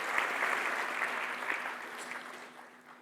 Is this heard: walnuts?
no